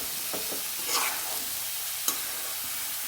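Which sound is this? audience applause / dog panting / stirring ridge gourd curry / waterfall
stirring ridge gourd curry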